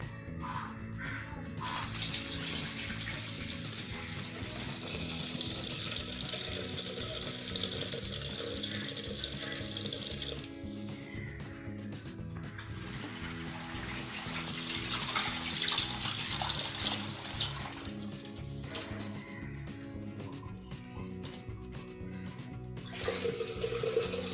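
Water runs from a tap into a vessel, splashing and swishing as urad dal is rinsed, with pauses and bursts of flow over about twenty seconds.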